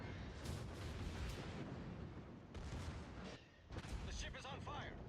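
Secondary guns on a battleship in World of Warships fire at the player's North Carolina, a dense, rumbling barrage of overlapping booms and crackles that continues without a break, loud and close.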